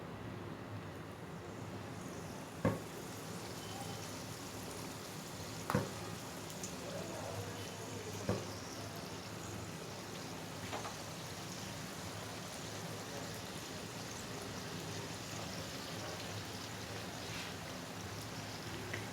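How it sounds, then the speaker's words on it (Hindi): Chicken box patties shallow-fry in hot oil in a pan with a soft, continuous hiss and crackle, broken by a few sharp knocks. "मैं इसे डीप फ्राई नहीं कर रही हूँ"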